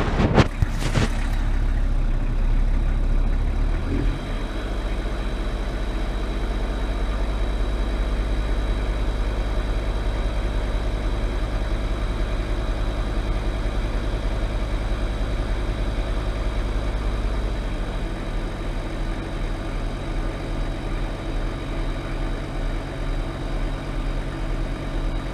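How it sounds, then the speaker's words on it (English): A VW T4 Transporter van engine idles steadily with a deep, continuous rumble during an oil flush, a brief rev near the start, then settles into a constant low hum. "it's been about 15 minutes since the engine's been idling, so we'll do another slight rev"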